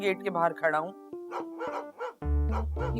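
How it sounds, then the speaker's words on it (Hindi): Dogs barking outside a gate, several short sharp barks and yips in quick bursts, fairly close, mixed in with a man's speech. "ये कुत्तों के भौंकने की आवाज आ रही है"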